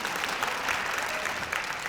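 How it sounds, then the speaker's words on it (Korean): An audience at a real estate seminar lecture applauds, a brief burst of steady clapping from a crowd in a hall. "박수 치려면 더 크게 치세요."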